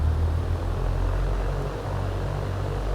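A light aircraft's propeller engine in X-Plane 11 throttles up for takeoff, a loud, steady droning hum with a low rumble that holds even through the whole stretch, with no talk over it.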